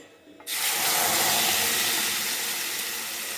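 Ground tomato hits hot ghee with a sudden loud sizzle that starts abruptly after a quiet moment and holds as a strong, steady frying hiss, easing only slightly toward the end, with no talk.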